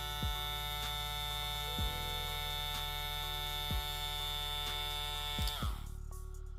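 Bill Pro BL 600 hair clipper running at its second speed, a steady close electric buzz with strong harmonic whine, a few faint clicks, cutting off abruptly near the end.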